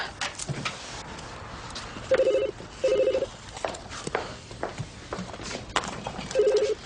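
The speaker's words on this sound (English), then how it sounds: "when the telephone makes that funny ringing noise, you pick up the receiver" A telephone bell rings in three short bursts, the last after a longer gap, over footsteps and light background clatter.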